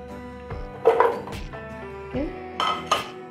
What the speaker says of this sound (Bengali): সজনাগুলো দিয়ে দেব এখানে